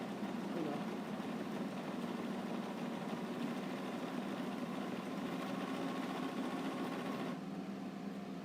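A sewing machine stitching a buttonhole runs in a steady, quiet, fast mechanical whir, continuous and close, stopping abruptly near the end.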